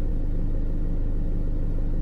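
A small pink miniature car's engine rumbles loudly and steadily, with a low, evenly pulsing drone and no voices.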